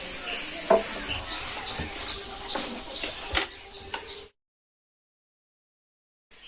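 Bitter gourd frying in oil with chili powder for a Kerala-style pavaykka mezhukkupuratty, a steady close sizzle with a few stirring clicks that cuts off abruptly into silence.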